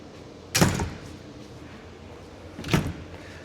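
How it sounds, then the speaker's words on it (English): A lavatory door aboard a Cessna Citation CJ3+ business jet is pushed shut twice, two sharp close thumps about two seconds apart against a quiet cabin background. "Shut this door."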